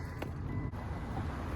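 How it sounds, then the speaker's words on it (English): A 2001 Subaru Forester mid STI drivetrain swap rumbles loudly with a deep, steady low-end drone, close by and continuous, with no talk over it. "the car's just really loud"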